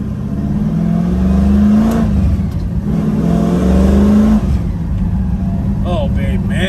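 A 1968 Chevrolet Camaro engine revs loudly while driving, rising twice in pitch through the gears, with a rumbling exhaust close by and someone talking briefly near the end.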